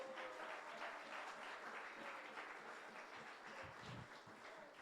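A church congregation applauds during a Sunday worship service, a steady broad wash of many hands clapping that holds across the whole stretch, fairly distant and even in level.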